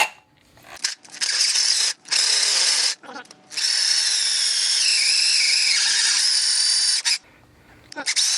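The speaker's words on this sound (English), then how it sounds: "I'm going to drill this in reverse." Power drill run in reverse to drill out a crooked alternator bolt, whirring in several bursts of a second or more, the longest run wavering in pitch as it bites into the metal, with short gaps between.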